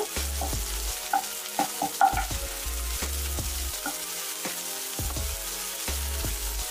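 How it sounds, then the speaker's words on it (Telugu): Garlic chili powder fries in a pan with onions for an okra dish, crackling and sizzling steadily while a spoon scrapes and stirs in repeated strokes, with low thuds between and no voices. "ఇందులో వెల్లుల్లి కారం వేసేసుకుని ఒక 1 మినిట్ 2 మినిట్స్ వరకు ఫ్రై అవుతే సరిపోతుంది."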